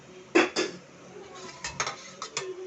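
Spoon scraping and clinking against a pan while adding one spoonful of homemade ginger garlic paste for a cauliflower gravy, several sharp close metallic taps in quick bursts.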